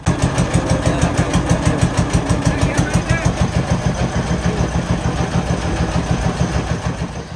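A trawler boat's engine chugs near Dhangmari canal, a close, steady run of rapid, even thumping pulses that continues without pause throughout.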